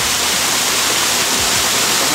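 An artificial waterfall at an indoor home hot-spring pool pours with a loud, constant, broadband rush of falling water, steady and close.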